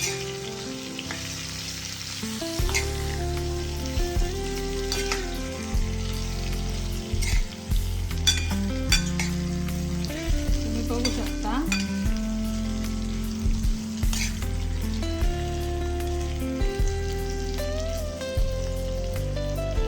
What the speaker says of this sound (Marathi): ही यामध्ये छान परतून घेणार आहोत तेलामध्ये